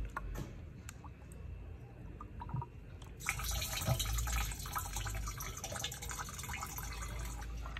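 Liquid pours steadily into a pest-control sprayer after a few quiet clicks and handling noises, rising to a continuous close splashing rush.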